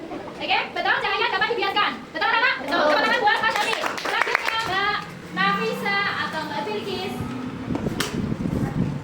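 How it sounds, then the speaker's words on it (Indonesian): Children clap in a classroom, with short bursts of hand claps mixed into lively child chatter and an adult voice speaking over them, and a brief sharp clap near the end. "Tepuk tangan buat Mas Javin."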